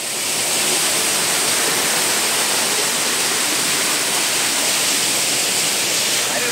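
A waterfall roars as a loud, steady, unbroken wash of falling water, close by and filling the whole clip with no voices over it.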